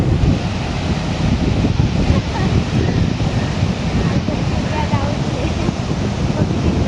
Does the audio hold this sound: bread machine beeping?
no